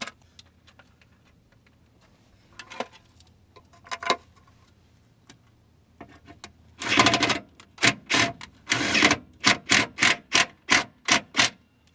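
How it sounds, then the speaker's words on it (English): An impact wrench runs bolts into the transfer case guard of a high-mileage GMC Sierra 1500. After a quiet stretch with faint ticks, a loud burst of rapid hammering pulses starts, close and without talk. "We're just gonna run her in with the impact."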